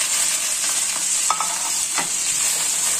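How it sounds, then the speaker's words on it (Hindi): Okra pieces fry in hot oil in a kadai, giving a loud, steady sizzle throughout with a few faint stirring scrapes and no voices. "अब इसमें भिंडियां फ्राई होने के लिए डाल रहे हैं।"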